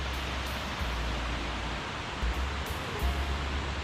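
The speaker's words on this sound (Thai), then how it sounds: "นี่มาฮอดแล้วจุดชมวิวบนน้ำตกกวงซี" Kuang Si waterfall near Luang Prabang, Laos, heard from a viewpoint as a dense, steady roar of rushing water with slight wind buffeting.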